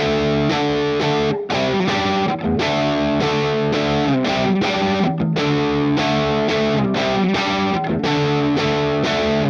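Loud distorted electric guitar plays the chugging power-chord pre-chorus riff, with sustained chords broken by brief rhythmic stops, continuing throughout.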